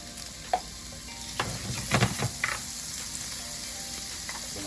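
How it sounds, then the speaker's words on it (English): Shrimp sizzle in a lightly oiled pan, a steady crackling hiss broken by a few sharper clatters and stirring bursts near the middle, with no voices. "And we're going to add our shrimp."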